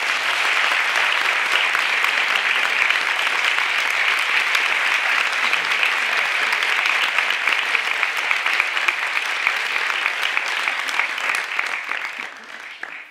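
Sustained, dense audience applause after an amateur theatre staging of A Midsummer Night's Dream by a local cultural association, loud and even throughout, then tapering off in the last second.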